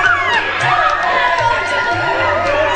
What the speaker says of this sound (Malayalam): കുട്ടിക്കൂട്ടങ്ങൾ കളിക്കളങ്ങൾ കയ്യേറുമ്പോൾ എങ്ങും ആരവങ്ങൾ മാത്രം